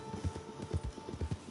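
Horses' hooves clip-clop at a quick, even pace on hard ground, several distinct knocking steps close by over a soft low hum, with no voices.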